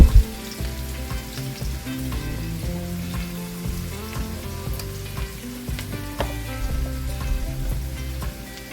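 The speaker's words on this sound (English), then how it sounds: "some oil on the pan and saute the onions" Onions sautéing in oil in a pan, a busy close sizzle and crackle with occasional stirring clinks, steady throughout and free of talk.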